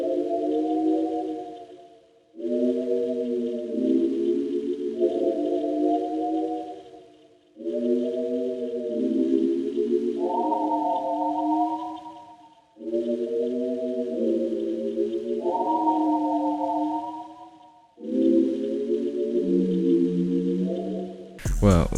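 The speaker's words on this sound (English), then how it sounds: "Then I add this flute from the Octave Trap." Sampled flute chords from an Octave Trap library, layered as a pad in FL Studio for an R&B beat, play in four sustained phrases with shifting chord voicings, separated by brief silences and carrying no speech.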